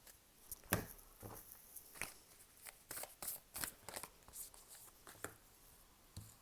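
Oracle cards shuffled by hand in a quiet room, a sequence of crisp riffling and sliding bursts at irregular intervals, each brief and close, with no talking.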